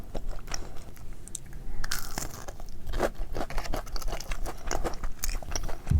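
Crunchy Korean fried food (twigim) is bitten and chewed up close, with a continuous run of crisp crunches and chewing noises for several seconds.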